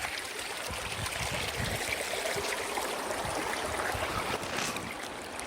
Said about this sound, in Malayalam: എന്ത് രസമായി പുഴ കാണാൻ